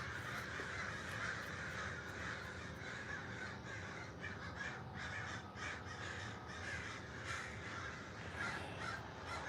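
Several crows caw repeatedly outdoors, some calls close and others distant, over a steady wash of background noise with no talking.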